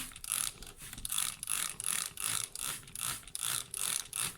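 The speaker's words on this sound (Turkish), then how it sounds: "bir fısfıs yardımıyla önce iyice ıslatıyoruz" A hand spray bottle mists dry moss to wet it before it is laid in a succulent terrarium: about nine quick, evenly spaced hissing spritzes, close and fairly loud, with no talking.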